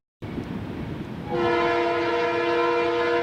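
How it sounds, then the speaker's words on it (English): A train horn sounds in a long, loud, steady blast over the rumble of a passing train in Butler. "The train whistle blows through Butler several times a day."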